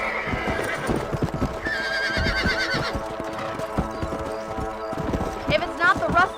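A horse in the Red Dead Redemption video game clip-clops in steady hoofbeats and lets out a couple of loud whinnies, with hoof rhythm running throughout under a voice and ambient game sound.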